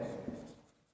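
Soft, faint scratching of a pen or marker across a classroom board during a maths lesson, fading out over about a second with no talk.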